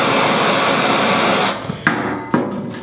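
A steady hissing blast stops abruptly, then two sharp, close taps strike the melted end of a Technora rope to form a capped tip.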